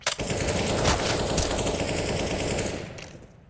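Sustained automatic weapon fire in the CS:GO video game rattles continuously and loudly for about three seconds before tapering off, with no talking.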